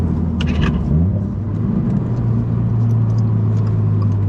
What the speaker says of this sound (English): Let's try a second gear downshift